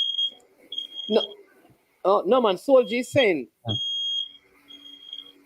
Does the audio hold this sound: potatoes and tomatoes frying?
no